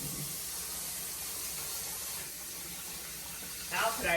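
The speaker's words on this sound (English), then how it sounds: "Wash my hands." Running tap water splashes into a kitchen sink as hands are washed, a steady close hiss throughout with a brief louder splash near the end.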